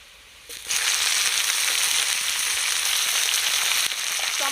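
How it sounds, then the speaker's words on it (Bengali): Chopped tomatoes drop into a pan of fried onions in oil, setting off a sudden loud, steady sizzle that holds for several seconds with no talking. "এবার আমি কুচিয়ে রাখা টমেটো দিয়ে দেব।"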